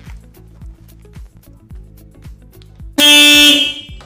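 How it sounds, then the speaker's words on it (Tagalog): A loud, bright disc-type car horn blares once for about a second, piercing and treble-heavy, following a stretch of low engine rumble and clicks. "i-test natin yung disc type na horn."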